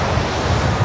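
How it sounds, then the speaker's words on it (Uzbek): Waterfall in Iceland, with a loud, close, continuous roar of rushing water and broadband wind-like noise, no talk and no breaks. "necha tonna suv sekundiga oqyapti bu yerda, Nodir."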